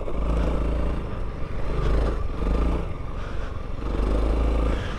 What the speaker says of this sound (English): You can keep the bike in third gear and putt around.